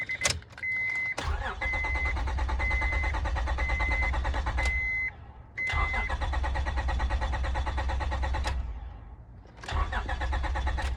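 A 1999–2004 Honda Odyssey minivan engine cranks and starts after a spark plug replacement, then runs steadily; it restarts twice more with loud, close cranking bursts at intervals, an engine drone filling the gaps.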